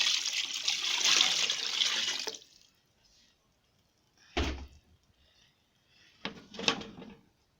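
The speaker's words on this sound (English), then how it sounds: "So now I'll be adding the extracted water of the palm kernel." Palm kernel extract water is poured into a cooking pot for egusi soup, a close, splashing pour for about two seconds, followed by a few brief clanks of the pot or lid.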